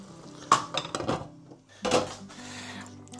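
A baking dish clinks and clatters in a kitchen while apple crumble is prepared, a few sharp ceramic and metal knocks with quieter handling noises between, close and without talk.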